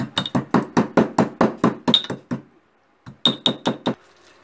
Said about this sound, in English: 1 lemongrass cut into 4 bits. I'm going to pound it.